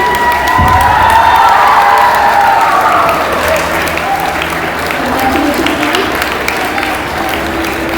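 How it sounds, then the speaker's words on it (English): A school swearing-in ceremony crowd at DAV Public School, Bhubaneswar, gives loud sustained applause mixed with cheering and children's shouts, while a voice speaks briefly over the din. "Can we have a thunderous round of applause for Jisha ma'am?"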